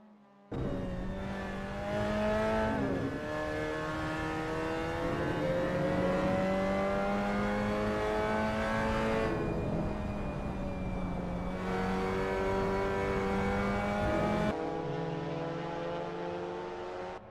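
A Mazda MX5 Cup race car lapping Laguna Seca in Assetto Corsa, the engine droning loud and steady with rising and falling pitch through gear changes, sharp drops at shifts, heard alone without talk.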